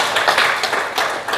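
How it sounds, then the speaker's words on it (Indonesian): Audience applause in a meeting room during a training session, a short burst of clapping with distinct, uneven hand strikes heard up close and alone. "Tepuk tangan untuk kita semua."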